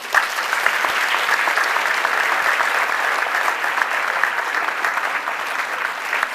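Sustained, dense applause from a large luncheon audience at an Army–Navy event, following the introduction of the Military Academy's superintendent, holds evenly loud throughout with a few shouts mixed in.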